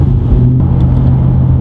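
A Ford XR ute V8 engine revs loudly and close by, a steady deep throaty note holding with slight rises, alone with no voices.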